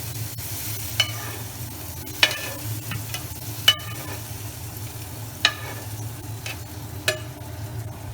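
Fried coconut pieces and curry leaves stirred into a pan of ground ginger curry paste, a steady low sizzle broken by several sharp clinks and scrapes of the spoon against the pan, close and clear with no talk.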